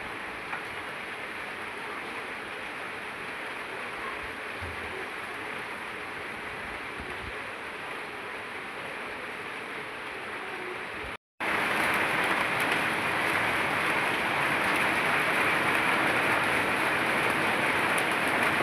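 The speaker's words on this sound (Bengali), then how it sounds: "যে বৃষ্টির ফোঁটা পড়তেছে" Continuous rain noise fills the whole stretch, briefly cutting out near the middle, then returning louder and brighter as a dense, steady downpour.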